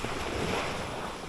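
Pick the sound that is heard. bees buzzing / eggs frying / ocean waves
ocean waves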